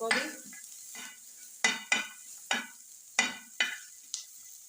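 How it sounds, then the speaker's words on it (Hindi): Small chopped onions lightly frying in a pan, about six distinct scraping stirs in sequence over a faint sizzle, close and clear. "और हल्का से इसको भी हम थोड़ा सा फ्राई कर लेते हैं,"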